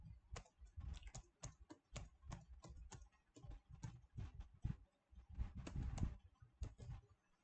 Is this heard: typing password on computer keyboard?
yes